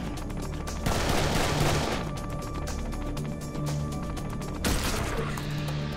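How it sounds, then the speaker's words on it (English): Sustained gunfire and chaotic shooting in the first-person shooter Serious Sam 3: BFE, with dense rapid crackling shots and two louder surges of firing over a steady background din. "Something is shooting at me."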